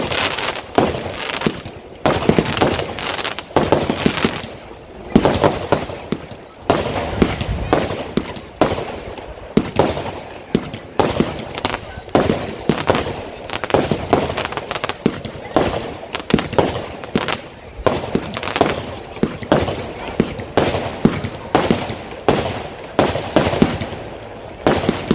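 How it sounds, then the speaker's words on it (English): A 64-shot firework cake of fused Roman candle shots fires in an outdoor display, a long irregular string of sharp cracks and bangs with some talk in the background. "A cake is basically just a selection of Roman candle single shots all kind of fused together."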